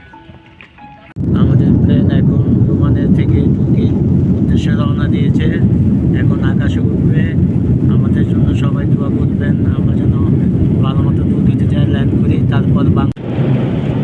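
A loud, steady roar fills a Turkish Airlines airplane cabin beside the window seat, a constant broadband rumble that holds for most of the clip, with voices talking faintly over it.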